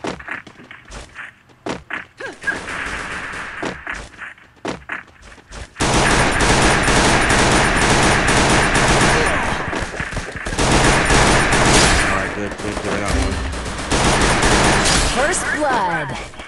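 Gunfire in the Free Fire battle royale video game, scattered pops at first, then steady, dense rapid shooting that keeps going for about eleven seconds, with a player's voice in the mix.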